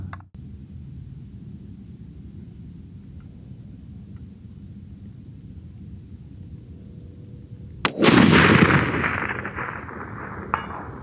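A single sharp rifle shot cracks out at a long-range shooting session after several seconds of quiet outdoor background, followed by a fading rolling echo.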